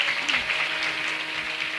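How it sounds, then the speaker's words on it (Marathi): Audience applause for a singer at a kirtan during a saint's death-anniversary week, a steady, fairly faint wash of many hands clapping from a distance, with no distinct voices. "यांच्यासाठी जोरदार टाळी वाजवा महाराज"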